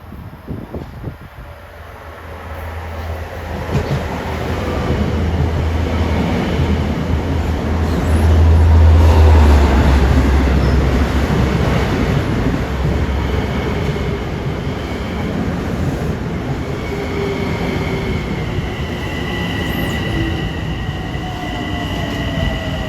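A Long Island Rail Road train rumbles past on triple track between Long Island City and Patchogue, a loud steady roar of wheels and cars swelling to a peak midway, then holding with high metallic rail whine.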